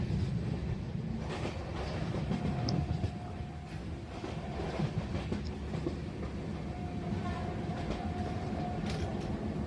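A passenger train running from Mysuru to Hassan in the early morning fills the carriage with a steady low rumble. Wheel clatter and faint squeals sit over it, and the whole sound is continuous and moderately loud.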